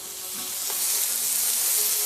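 Teppanyaki strips sizzling and frying in a non-stick pan with very little oil, a steady close hiss that builds slightly, with faint stirring scrapes and no talk.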